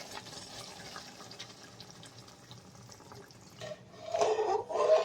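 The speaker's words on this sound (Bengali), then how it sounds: "আর এখন দিয়ে দেবো নারকেলের দুধ।" Coconut milk poured into a pan for a prawn and ridge gourd curry: a quiet, faint background, then a close, louder splashing pour of liquid in the last second or so.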